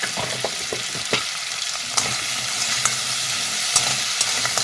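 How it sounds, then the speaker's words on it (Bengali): Crab sizzles in a frying pan with salt and turmeric while a spatula stirs it, scraping and clacking against the pan at irregular moments over a constant close sizzle. "ভালো করে নাড়িয়ে চাড়িয়ে ভাজতে হবে একটু একেবারে কড়া ভাজবো না হালকা করে ভাজবো"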